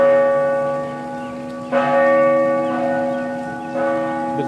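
A large cathedral bell in Savannah tolls slowly, two strikes about two seconds apart, each leaving a rich, lingering hum. No one speaks.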